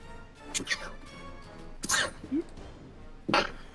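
Several sharp sneezes from a person during a tabletop gaming session, three distinct bursts spread over a few seconds, close and fairly loud against a quiet room with a brief voice between them.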